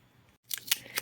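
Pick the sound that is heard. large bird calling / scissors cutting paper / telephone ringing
scissors cutting paper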